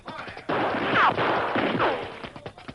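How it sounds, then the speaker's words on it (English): Gunshot sound effects in an old-time Western radio drama, a burst of loud cracks with a couple of whistling ricochets, close and punchy, with no talk over them. "The bullets came close."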